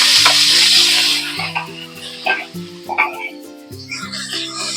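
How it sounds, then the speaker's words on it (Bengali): Fish fat is frying in a hot wok after a nigella-seed tempering, producing a close hiss and crackle while a voice talks over it. "সবার আগে আমি মাছের তেলটা দিয়ে দেবো।"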